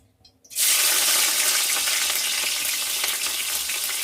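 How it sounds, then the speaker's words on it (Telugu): Garlic dropped into hot oil for gongura fry, bursting into a loud, steady sizzle after a brief quiet moment and carrying on close and continuous to the end, with faint stirring crackles. "ఫస్ట్ వెల్లుల్లి వేసుకుందాం"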